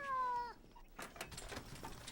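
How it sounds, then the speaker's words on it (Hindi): A cat gives a single clear, rising meow up close indoors, followed by soft rustling and scuffling sounds. "बिल्ली को टेबल से नीचे उतारो"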